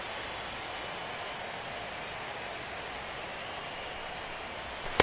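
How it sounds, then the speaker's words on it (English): Steady rain falls over a baseball stadium during an MLB playoff game between the Toronto Blue Jays and Detroit Tigers, a continuous even hiss with no voices, ending in a brief click. "the rain continues to fall here"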